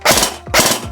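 A second-hand Perun P90 airsoft replica gearbox cycling: two short mechanical bursts of whirring and ratcheting, loud and close, with no talking.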